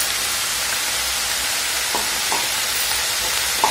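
Green chili and garlic paste hits a pan of cabbage and chana dal curry, giving a steady, loud sizzle and hiss with a few soft stirring taps, and no voices.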